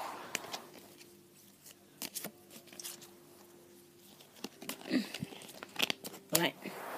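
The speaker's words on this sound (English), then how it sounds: "Give them a good shuffle." A deck of playing cards being shuffled by hand up close, heard as a series of short, crisp papery flutters and snaps in irregular bursts over a quiet background.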